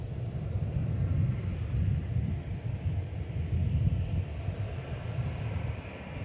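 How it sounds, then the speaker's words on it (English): An Airbus A340 airliner takes off at an airport, a steady, continuous low rumble of jet engine noise with some wind buffeting, moderately distant and without talk. "this takeoff of an A340 will be the last scheduled one from this airport"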